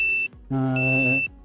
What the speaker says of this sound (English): Again, sorry about the beeping.